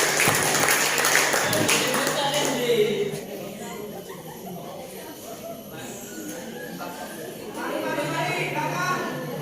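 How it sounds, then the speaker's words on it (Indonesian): Student debate audience claps after candidates' answers, a burst of applause that thins after a few seconds into murmuring chatter and voices, with clapping swelling again briefly near the end. "tepuk tangan untuk jawaban dari kedua pasangan"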